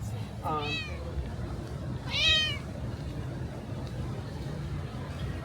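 A cat in Key West gives two distinct meows a second or so apart, the second louder and more insistent, over a faint murmur of background chatter.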